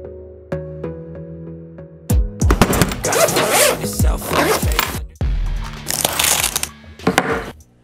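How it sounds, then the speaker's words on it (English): PVC pipe pieces being pushed into 90-degree plastic elbows give a series of close, sharp clacks and scraping bursts. Quiet pauses fall between the fittings. "I've cut 4 pieces of PVC pipe the equal lengths, and now I'm adding 90-degree elbows to the ends of each one of these"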